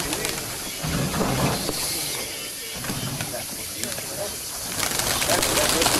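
Racing pigeons fly back in to their loft in Volos, giving soft cooing and wing flutters over a steady, hissy outdoor background that runs the whole six seconds.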